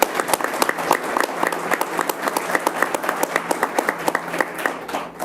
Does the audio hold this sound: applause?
yes